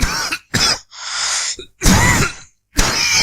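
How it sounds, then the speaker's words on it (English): A dry, unproductive cough repeats in four or five harsh, close bursts separated by brief silences, with throaty clearing in between and no other sounds. "So when you have a dry cough, nothing comes up."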